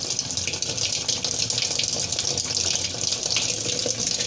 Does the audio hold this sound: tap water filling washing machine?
yes